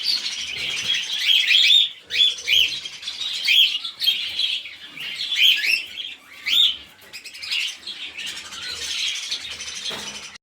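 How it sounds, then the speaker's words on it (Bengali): Cockatiels in an aviary chirp and tweet in quick, overlapping bursts, bright and fairly close, with brief lulls between flurries and no talking. "প্যাচিলাস ককটেলগুলো খুবই সুন্দর আছে"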